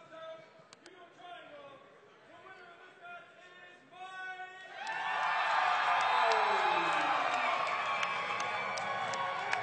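Spectators at a mixed martial arts fight event break into cheering and applause after a first-round submission win, the crowd noise swelling midway and staying loud, following a stretch of talk over a quieter background.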